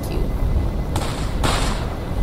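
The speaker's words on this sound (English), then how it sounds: "Why do I hear gunshots?" Gunfire in a S.T.A.L.K.E.R.-style video game: two sharp, distant-sounding shots about half a second apart, set against a steady background rumble.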